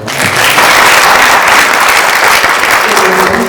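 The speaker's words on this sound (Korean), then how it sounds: "박수 한번 드리겠습니다" Sustained applause from an audience at a university business forum greeting a government minister, loud and dense clapping filling the room throughout.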